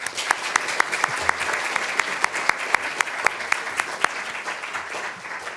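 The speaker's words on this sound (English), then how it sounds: "If I could get everyone just to give them a short round of applause." An audience at a postgraduate academy launch event gives the speakers a round of applause, dense clapping with several sharp, close individual claps standing out in an irregular rhythm over the crowd.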